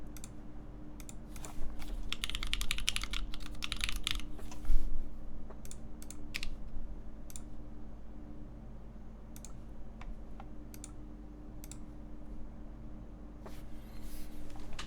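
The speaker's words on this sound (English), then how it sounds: "So this is Gatex switches on an aluminum plate. Right now we have no foam at all." Typing on a Percent Studio PT990 keyboard built with Gateron switches on an aluminum plate and no foam: bursts of rapid close clacking keystrokes, then scattered single presses over a low steady hum.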